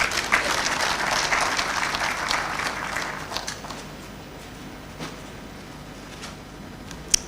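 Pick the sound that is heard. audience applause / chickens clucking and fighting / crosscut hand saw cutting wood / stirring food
audience applause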